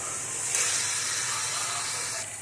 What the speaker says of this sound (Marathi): थोडं वाफेवर याला शिजून देऊया.